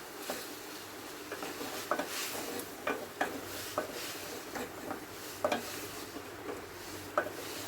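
Shrimp and mixed vegetables sizzle steadily in a pan while a spatula scrapes and stirs, giving repeated clinks and scrapes at an uneven rhythm. The sound is close and moderately loud, with no voices.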